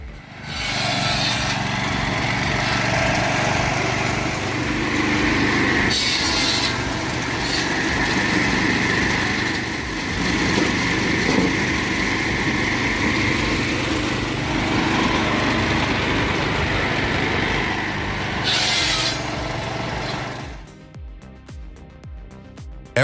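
A chainsaw cuts firewood, likely held on a support stand, with a loud steady high-pitched engine whine that rises and falls as it bites into the wood for about twenty seconds before cutting off abruptly.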